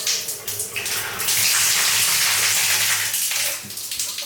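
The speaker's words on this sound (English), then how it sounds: "A big old hole in the ceiling with the water coming through." Water pours and splashes continuously through a large hole in the ceiling of an abandoned Hollywood Hills mansion, a broad hissing gush with no talk.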